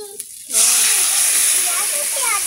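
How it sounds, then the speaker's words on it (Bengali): Water poured into a hot pan while cooking okra and fish curry gives a sudden loud hiss that breaks in after a short quiet, then holds as a steady broad sizzle, with a voice faintly talking over it. "জল দেবো"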